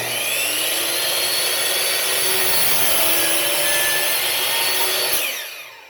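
A power saw set at an angle cuts a bevel along a wooden edge, a loud continuous whine and rasp lasting several seconds before spinning down at the end.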